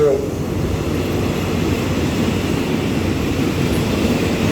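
Alsthom locomotive number 4222 pulling a commuter train into a station makes a loud, steady rumble and roar that holds throughout at close range, with no talking.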